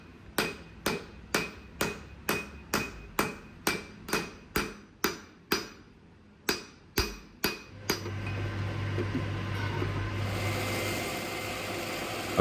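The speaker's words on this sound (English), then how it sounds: "I hammer the tip down against the anvil face to start creating the clip point profile" Hammer blows ring out on a knife blade tip against an anvil face while forging a clip point profile, about fourteen sharp, evenly spaced strikes, then a steady roaring hiss of a forge or reheat afterward.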